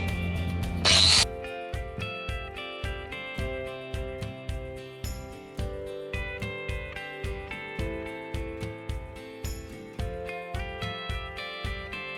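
A power tool cuts through a thick aluminium body part of a Honda Super Cub, producing a brief harsh burst followed by steady, rhythmic, repeated cutting strokes with a ringing metallic tone, close and unbroken by speech.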